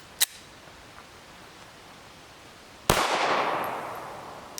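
A Glock 19 Gen 4 MOS pistol with a 4-inch factory barrel and red dot fires a 9mm 94gr frangible round: a faint click first, then one sharp, loud report with a reverberant outdoor tail.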